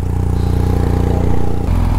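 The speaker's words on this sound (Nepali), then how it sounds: "बाइक को चालू करना पड़ेगा क्या?" A motorcycle engine idles up close during a road trip in the USA, a loud, steady, throbbing rumble that shifts pitch slightly near the end.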